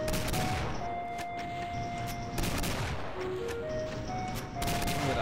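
Rocket launchers fire in the Doom video game on the other side of a wall, heard as a dense, continuous barrage of booms and blasts that stays loud throughout, with no talking.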